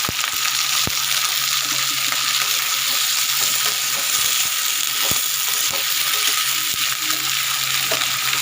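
Small fish with mustard leaves frying in a pan in a village kitchen, a steady broadband sizzle throughout with occasional sharp pops and ticks of stirring, no voices.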